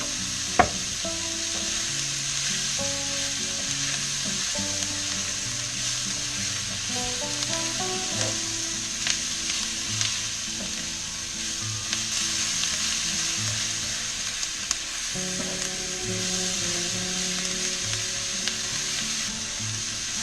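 Mushrooms fry in olive oil in a pan with a constant close sizzle, while faint tonal background music plays underneath throughout.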